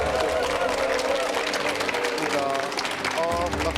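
An audience applauds to welcome Nam-gu district mayor Kim Byung-nae at a public Q&A forum in Gwangju, Korea: steady, dense clapping from a crowd with voices mixed in throughout.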